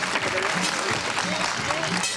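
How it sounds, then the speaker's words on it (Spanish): Audience applause at a Spanish-language TV show, steady dense clapping across the short span with a voice speaking over it. "Un aplauso."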